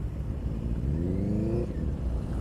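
A 2018 Benelli TNT 135 small motorcycle engine at low speed, its revs rising and falling unevenly with a jerky throttle, a steady close buzzing drone with no talk over it.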